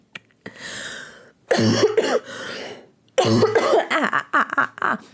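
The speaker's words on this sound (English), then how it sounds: "Coughing." Several bursts of coughing, close and fairly loud, coming in clusters with short pauses between them and no talking.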